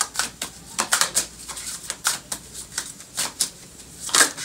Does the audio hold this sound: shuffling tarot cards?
yes